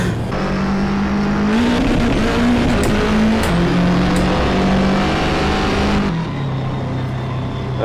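A 500,000 HP double decker bus in Assetto Corsa revs hard through its gears in a loud, continuous engine roar with rising pitch steps, a shift near the end dropping the tone.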